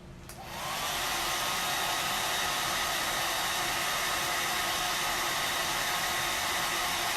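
A hair dryer switches on and blows loudly and steadily, a constant whooshing hiss with a faint whine, close by and uninterrupted, drying paste on a silk-screen stencil during chalk crafting on wooden pumpkins.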